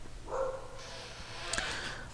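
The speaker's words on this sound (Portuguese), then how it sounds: "É o cachorro do meu vizinho, não é nem o meu" A neighbour's dog barks and whimpers nearby in a couple of short, loud yips and barks over a low steady background hum.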